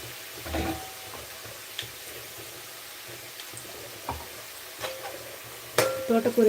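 Amaranth leaves frying in a pan with turmeric and paste, a steady low sizzle broken by scattered stirring clinks and scrapes, louder clattering toward the end.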